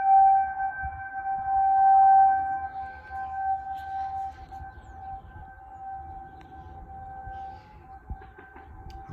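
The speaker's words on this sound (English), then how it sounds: "the sirens are going off." A Monroe County civil defense siren sounds during its monthly test on the last Wednesday of March 2021, a sustained distant wailing tone that rises and falls in loudness as it rotates.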